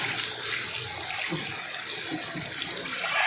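Soy sauce pours into a pan of chicken feet and egg adobo, a steady liquid splash and sizzle lasting a few seconds at close range with no talk.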